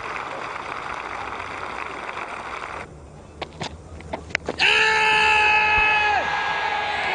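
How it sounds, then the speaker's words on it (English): A cricket crowd at a New Zealand versus England Test match cheers a six, with a loud burst of whoops and air horns after a noisy crowd bed and a quieter lull. "Ecstasy from the crowd"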